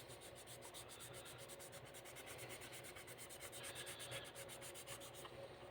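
Steady scrubbing of a plastic model car body from a kit, a continuous close-up rubbing with a fast regular back-and-forth rhythm throughout, with no voices.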